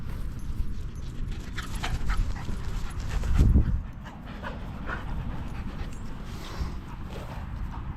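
A dog pants quickly and steadily nearby, with a brief louder rustle partway through, against low outdoor background noise.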